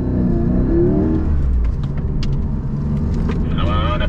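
A Porsche GT4 RS pulls hard through a cone course at a Porsche World Roadshow, its engine a loud, close, sustained roar that climbs in pitch, with people talking over it.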